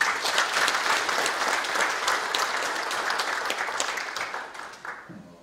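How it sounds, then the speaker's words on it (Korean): Audience applause at a seminar on fostering an industry, held in Incheon: a sustained, dense clapping from a large crowd that holds steady for about five seconds, then fades out at the end. "이 참석해 주신 모든 분들 감사하다고 박수 한 번 더 보내주세요"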